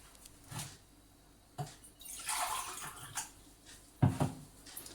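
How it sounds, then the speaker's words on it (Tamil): Water is poured into a large pot while cooking rava semiya kichadi, a soft, uneven splashing and trickling with a few faint clinks, quiet and close. "கிச்சடிக்கு தேவையான தண்ணியை இதில் சேர்த்துக்கலாம்"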